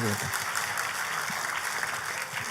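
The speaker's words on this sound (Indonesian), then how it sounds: "Kasih tepuk tangannya yang paling meriah buat Tuhan" A church congregation applauds steadily in a worship hall, a continuous wash of clapping with faint voices mixed underneath.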